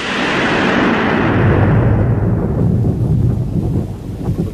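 Heavy thunder rolls through a storm in a Czech fairy-tale audio drama, a loud, deep, continuous rumble lasting several seconds with no voices.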